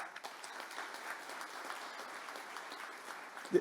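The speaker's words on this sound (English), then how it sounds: "give them a round of applause for that" Audience applause at the opening ceremony of The Rose Gaming Resort in Dumfries, a soft, even patter of clapping heard from a distance, steady throughout.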